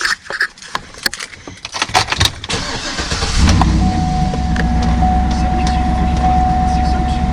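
A 2007 Cadillac Escalade EXT: clicks and rustling inside the cab, then the starter cranks and the engine catches about halfway through, settling into a steady, loud, low idle hum with a faint high whine.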